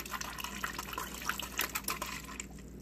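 Water runs from a refrigerator's ice and water dispenser just after a filter change, a faint steady hiss and patter of flowing liquid, quiet and continuous with no voices.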